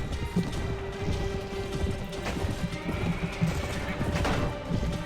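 Horses gallop in a Mount & Blade: Warband battle, a dense stream of hoofbeats and clatter with whinnies and clashing under a loud, busy mix.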